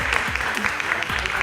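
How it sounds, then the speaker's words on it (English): A studio audience at a high school quiz show between Dansol High School and Crescent High School claps for the teams. The brief burst of applause is mixed with voices. "A round of applause for yourselves and a round of applause for the team."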